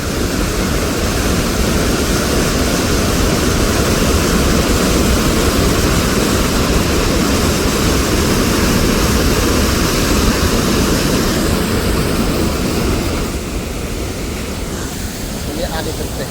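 Fast-flowing water at Devi's Fall waterfall in Pokhara, a loud, dense, unbroken roar of rushing water filling the whole clip, easing slightly near the end, with speech underneath.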